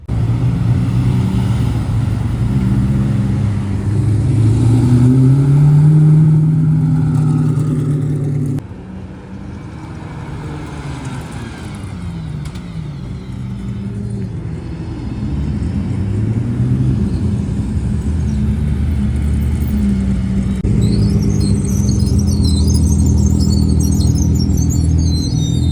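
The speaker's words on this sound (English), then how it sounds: "I think the hypercars will be coming" Hypercars pass in a steady stream during a California car week event, engine notes rising and falling loud and close, with a brief drop partway through before the roar swells again; no talking.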